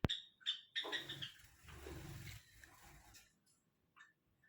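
Small birds give quick high chirps and tweets, several short calls close by, with a rustling burst in the middle and quiet gaps.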